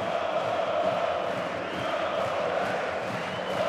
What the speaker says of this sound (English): the crowd are in great voice here